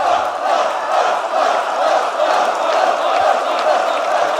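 A packed esports arena crowd at a Rainbow Six Siege major tournament roars and chants continuously, loud and dense with rhythmic swells of cheering.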